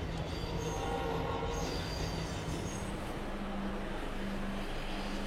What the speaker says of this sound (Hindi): और ये यहाँ पर एंट्री मारी है मैसूरू बेलगावी विश्व मानवा एक्सप्रेस ने।